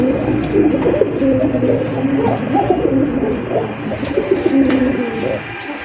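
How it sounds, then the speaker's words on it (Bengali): Fancy racer Golla pigeons, a pure white pair, coo in low, throaty, repeated rolls that run continuously and close by at a moderate level. "এখানে দেখতে পাচ্ছেন সাদা ধবধবে এক জোড়া কবুতর।"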